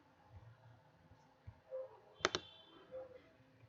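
Two quick mouse clicks come close together in a quiet room, sharp and clear above a faint background hiss, followed by a few softer taps.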